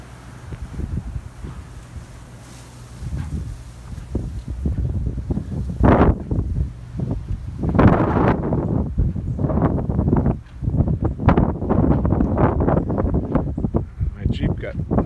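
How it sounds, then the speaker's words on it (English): Strong gusty wind on St. Thomas in the aftermath of Hurricane Irma buffets the microphone in loud, surging roars that rise and fall through the clip, with someone talking over it. "Still quite a bit of wind this morning. I'd say these are probably like 30-mile-an-hour gusts."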